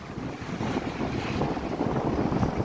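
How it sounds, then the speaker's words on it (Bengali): Strong wind roars across the microphone over choppy river waves near a ferry crossing under cloudy weather, a steady broadband rush with no speech. "আপনারা দেখছেন নদীর কিরকম ঢেউ, প্রচণ্ড ঢেউ, প্রচণ্ড হাওয়া হচ্ছে"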